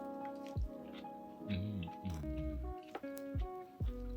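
Homemade Napa cabbage kimchi being tasted, with wet squishy crunching and chewing bites in short bursts, close and fairly quiet, with no talk.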